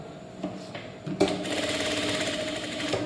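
Sewing machine stitching blouse fabric pieces together, starting with a few separate needle thumps, then a loud, fast, continuous mechanical whirr close by.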